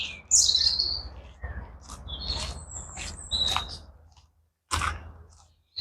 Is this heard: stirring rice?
no